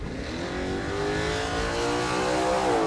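An AMC Gremlin drag car powered by a Jeep 4-liter inline-6 with a Mustang T5 transmission revs hard and close, its engine tone climbing steadily and loud across the whole stretch at a drag strip.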